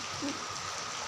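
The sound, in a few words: rain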